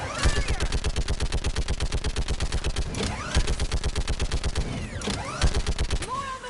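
Rapid automatic gunfire in Mass Effect 3, long rhythmic bursts of close, loud shots with brief pauses around three and five seconds, sweeping ricochet-like tones between them.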